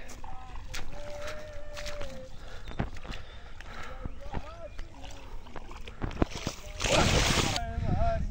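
A fishing boat moves along a river, with faint wind, water and wooden knocks around it; people talk throughout.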